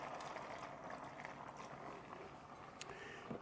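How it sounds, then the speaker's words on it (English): Half a cup of water pours into a pan during pork tenderloin cooking, a faint, steady splashing and bubbling wash heard alone at low level. "Add half a cup of water."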